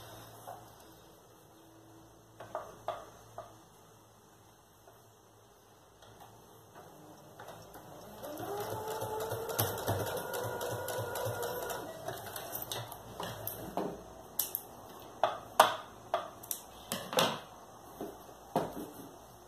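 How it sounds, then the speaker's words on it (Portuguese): A sewing machine stitching a zipper seam on a children's backpack runs in a soft, close whir for several seconds, followed by scattered clicks and handling taps as the fabric is shifted. "E aí eu vou passar uma costura aqui com pé de máquina."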